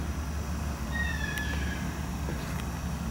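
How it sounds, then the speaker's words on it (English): A cockatoo calls faintly in the background of a model train room, giving a few brief squawks over a steady low hum. "And as you can hear the cockatoo in the background"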